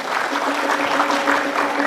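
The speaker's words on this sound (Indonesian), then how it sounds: "Mana tepuk tangannya untuk Jembrana?" An audience at a Balinese quiz semifinal claps steadily, a dense wash of applause that holds at an even level throughout.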